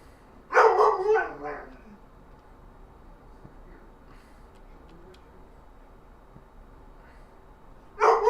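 Dogs barking in an Amazon package delivery simulator video game, a short burst of several barks early on, then a long quiet stretch before another bark at the end, fairly close and loud.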